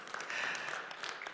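A church audience breaks into a short round of applause, many hands clapping together at moderate volume for just over a second.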